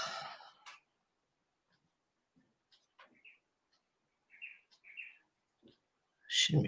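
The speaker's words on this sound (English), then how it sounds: "I love hearing the birds in the background" Sparse, faint bird chirps scattered through a quiet stretch, with a few short calls in the middle and a brief louder rustle at the start and end.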